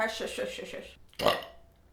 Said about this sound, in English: I feel like burping clears my head a little bit